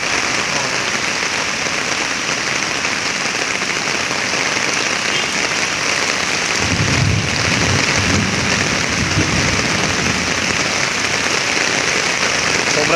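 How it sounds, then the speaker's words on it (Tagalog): Heavy rain pours down steadily and loudly during a sudden downpour that has flooded the area, a dense continuous hiss that swells slightly louder partway through. "Sobrang dami nung ulan na pinagsak."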